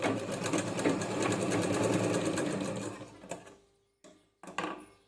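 A sewing machine runs steadily for about three seconds, stitching down a fabric strip on a tulip rubber band, then stops, followed by a few short handling knocks and rustles.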